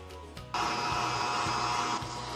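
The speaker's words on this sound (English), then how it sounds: "I'll get this onto my stand mixer and mix this until it's creamy and combined" A stand mixer whirs steadily as it creams melted butter with granulated sugar, starting softer then jumping to a loud, constant motor drone with a faint rhythmic beat from the turning beater.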